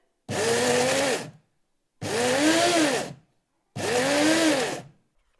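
Kitchen blender whirring through milk for homemade whipping cream, pulsed in three separate bursts of about a second each, with silent gaps between them, close and loud.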